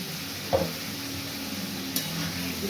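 Potatoes with salt, Kashmiri chilli and spices frying in a pan, a steady soft sizzle broken by a couple of sharp scrapes of the spatula against the pan, close and without talk.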